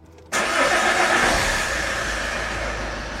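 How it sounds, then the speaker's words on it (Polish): An Opel Zafira 1.9 CDTI diesel, its ECU tuned to remove emissions equipment, cranks briefly and catches, then settles into a loud, steady idle for about three seconds with no talk. "Teraz sprawdzimy, czy auto w ogóle odpali."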